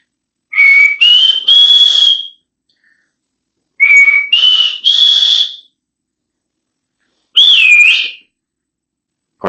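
A person whistles loudly and close by in three separate phrases, the first two made of three rising notes each and the last a single sharp call, with silent gaps between.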